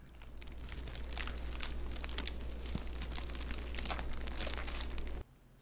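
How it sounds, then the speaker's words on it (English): Several kinds of paper being crumpled and torn close up, a steady dense crackle and crinkle with sharper tearing rips, running continuously until it stops abruptly near the end. "the sound that you just heard is 3 different forms of paper"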